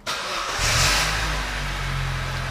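A Vauxhall Corsa 1.2 engine with a newly replaced crank position sensor cranks briefly, catches at once and rises to a rev before settling into a steady, close idle.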